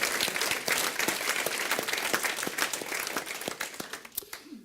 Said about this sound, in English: Could we just give her a quick round of applause